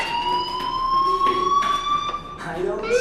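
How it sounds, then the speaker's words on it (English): A fire alarm rings in the video game Life is Strange, a steady electronic tone with harmonic overtones sounding continuously and fairly loud, shifting pitch slightly near the end, with faint background noise around it. "do you hear that fire alarm? That means you should be outside."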